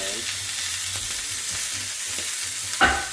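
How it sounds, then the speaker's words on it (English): The sides of a steak sear in a still-hot pan, giving a steady close sizzle with a few soft scrapes and one brief louder clatter near the end. "And our pan still has some heat in it. And we're going to get the sides of the steak now."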